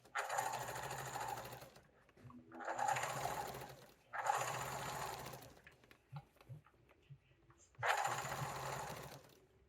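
A sewing machine quilts a perpendicular line across a mitered blanket, running in four bursts of steady whirring stitching with short pauses and small clicks between them.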